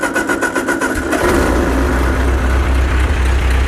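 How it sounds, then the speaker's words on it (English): A Ford 8N tractor engine cranks with a quick rhythmic starter chatter for about a second, then catches and settles into a steady, loud, close idle that runs alone to the end. "Well, now that the tractor's running again,"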